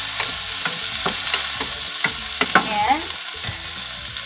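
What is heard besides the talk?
onions and tomato frying in a pan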